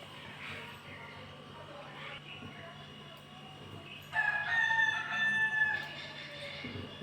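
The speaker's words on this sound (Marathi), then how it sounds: "सकाळ सकाळी कोंबड्यांची कसली घाई चालली ओरडायची" Roosters crow in the morning, one long, loud call rising out of a low, steady background hum midway through; no speech is heard.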